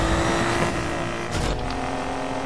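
In Need for Speed Payback, a Buick's engine roars loud and close during racing, a continuous strained rev with a brief rising surge midway and no talk over it.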